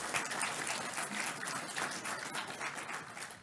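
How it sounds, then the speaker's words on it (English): A conference audience at a technical talk on the Zephyr device model applauds, a faint, steady wash of many hands clapping from a distance, continuous throughout. "let's give them some applause."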